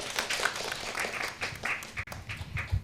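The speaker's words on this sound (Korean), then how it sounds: "박수로 맞아주세요." An audience at a Korean forum on low birth rates and the media claps steadily, a dense, even patter of applause from a room full of people.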